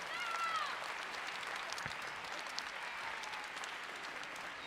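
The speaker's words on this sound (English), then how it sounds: "How about another round of applause for the soon-to-be Captain Flynn?" Audience applause at a military band holiday concert, a steady, moderately loud wash of many hands clapping in a large room, with faint crowd murmur beneath it.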